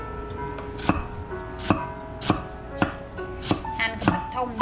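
A knife chops ingredients for chicken curry soup on a cutting board, giving sharp, close knocks at a steady rhythm of roughly two per second, alone with no talk.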